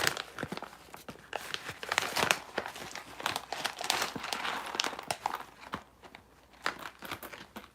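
Bag of Peruvian single origin coffee handled up close, loud irregular crinkling and rustling of packaging in quick bursts with short pauses, no voices.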